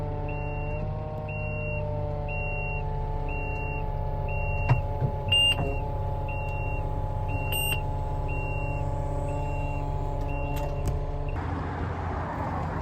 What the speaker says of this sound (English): Just lifting the forklift off now.